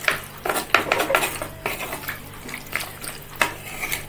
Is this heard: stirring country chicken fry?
yes